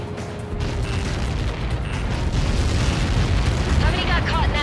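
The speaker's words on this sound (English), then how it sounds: "How many got caught in that explosion?" An explosion in the video game Ace Combat 7 rumbles as a dense, sustained roar with booming low-end and crackling debris, loud and continuous, with some radio chatter in the game mixed in.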